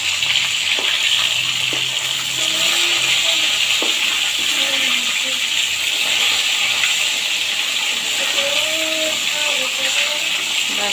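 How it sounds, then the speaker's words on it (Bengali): Food sizzling in a frying pan in a home kitchen, a steady bright hiss running continuously and fairly loud, with small pops and crackles scattered throughout and no one talking. "দেখো, আর একটু ভাজা হলে আমি এটা উল্টে দিব।"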